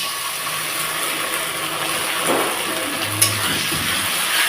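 Ground spices go into fried onions browned for a goat meat curry, with a steady broadband sizzle throughout and a few faint clinks and stirring scrapes near the middle.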